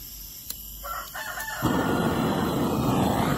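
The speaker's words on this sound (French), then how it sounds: "Ouais, t'es beau le coq." A rooster in a chicken coop crows once, loud and close, a drawn-out call that ends as a broad rushing noise takes over.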